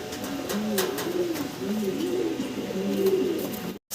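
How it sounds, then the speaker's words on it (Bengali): A large pair of pouter pigeons coos steadily and close by, the soft throaty rolls repeating in overlapping phrases for nearly four seconds before a brief cut. "ভাইয়ের কাছে বিশাল বড় এক জোড়া পটার কবুতর যেটা কিনা ব্রিডিংয়ের জন্য একদম অস্থির আছে"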